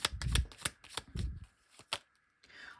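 Tarot cards are shuffled and drawn from a deck close up, with a quick series of soft riffling flicks and slaps followed by a few quieter card slides.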